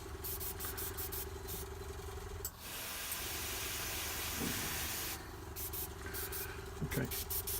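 An airbrush sprays paint onto a Blood Angel Librarian miniature, giving a soft, steady hiss in long bursts with short pauses and a few faint clicks between them.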